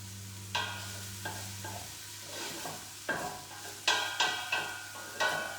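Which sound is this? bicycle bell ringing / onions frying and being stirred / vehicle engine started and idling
onions frying and being stirred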